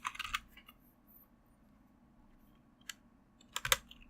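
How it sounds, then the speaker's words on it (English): Computer keyboard typing and mouse clicking come in short clustered bursts of clacks, close and fairly loud, separated by quiet gaps. "It's even worse when I'm clicking and typing."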